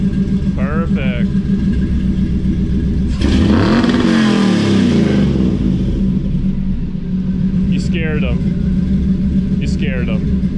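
A hot rod car engine revs hard near the limiter in a garage, one loud, sustained roaring burst over a constant idle rumble, with people talking briefly before and after.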